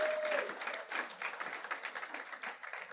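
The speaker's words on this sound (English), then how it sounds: "I want to give a round of applause for Michelle for doing all that last minute." Church congregation gives a short round of applause, a dense patter of many hands clapping at moderate volume, steady throughout with a brief tonal sound at the start.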